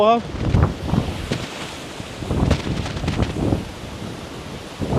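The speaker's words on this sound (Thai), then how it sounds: "บนนี้ลมแรงมากครับ" Strong wind on a hilltop in Prachuap Khiri Khan roars and buffets the microphone in loud, continuous gusts, with someone speaking briefly over it.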